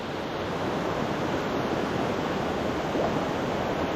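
Large waves of rising water surge and wash in a steady, broadband roar that holds constant and fairly close, with a slight swell near the end and no voices.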